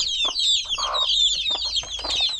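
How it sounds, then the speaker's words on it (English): Chicks and hens clucking on a morning farmyard, with repeated high chirps and throaty clucks layered close together and continuing without a break, with no talking. "you had some chicks making noise right on the center"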